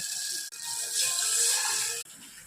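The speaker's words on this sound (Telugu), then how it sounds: "1కి 2 వాటర్ వేసుకుంటున్నానండి" Water pours into a pan while upma is being made, a close, steady gushing stream with brief breaks at the start and end.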